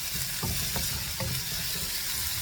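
Mustard seeds, onion, garlic and curry leaves fry in hot oil for a village-style fish curry, a close, steady sizzle with a few soft stirring knocks and no talking.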